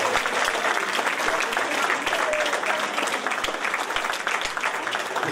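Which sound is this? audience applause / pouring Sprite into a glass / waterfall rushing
audience applause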